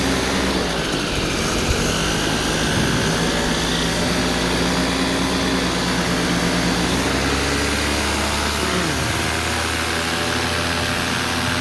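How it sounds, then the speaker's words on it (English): Loud, constant droning of a small paramotor propeller engine, close and unbroken throughout, with a buzzing whine and slight shifts in pitch. "Not to mention a noisy engine into the bargain."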